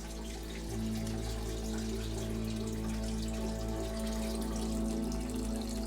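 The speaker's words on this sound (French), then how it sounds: "Cette source produit entre 100 et 200 millilitres d'eau par seconde, sans interruption, depuis des siècles." Water from an underground spring in the village of Dingley, Malta, flows in a steady, continuous rush with a constant low drone, close and unbroken throughout.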